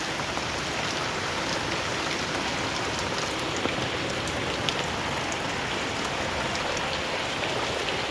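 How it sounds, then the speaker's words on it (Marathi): Steady, dense rain falls on outdoor surfaces, a continuous even hiss with faint scattered drip ticks throughout. "आपण आता घरी जाणार होतो तर बघितलं तर पाऊस पण चालू झाला आहे तुम्ही पाऊस बघू शकता बघा पाऊस"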